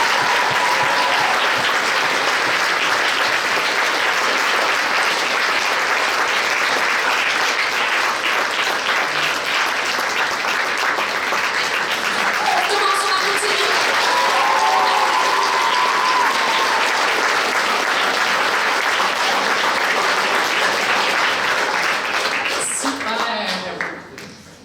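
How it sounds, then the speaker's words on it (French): An audience at a regional science fair final in Québec claps in loud, sustained applause that fills almost the whole stretch, then cuts off abruptly at the end. "on va y aller pour nos meilleurs applaudissements."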